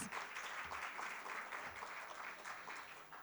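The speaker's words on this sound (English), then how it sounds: "A huge round of applause for the gentleman, please." A crowd claps steadily and loudly for a few seconds, a dense, continuous patter of many hands with no voices over it.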